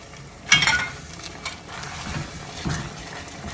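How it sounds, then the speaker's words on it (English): A wooden spoon stirs mushroom risotto in a pan, making soft wet scrapes and a few sharper knocks against the pan in separate strokes, fairly close and without talk. "you just got to stir it constantly"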